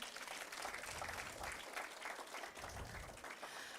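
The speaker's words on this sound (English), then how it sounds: "Let's give them a round of applause" Audience applause at a reading competition event: steady, even clapping from a sizeable crowd, somewhat distant and fairly quiet, continuing throughout without speech.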